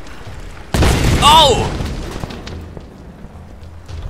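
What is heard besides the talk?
explosion in Tomb Raider video game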